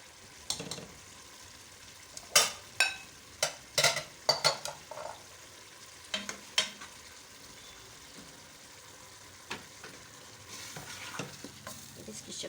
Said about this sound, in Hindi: अब इसमें मैं ये कद्दू डाल दूँगी, इसको भूनूँगी